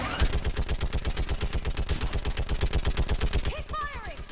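Rapid automatic gunfire from a Mass Effect firefight on Thessia, sustained evenly spaced bursts loud and close throughout, with a rising electronic whine or voice-like sweep near the end.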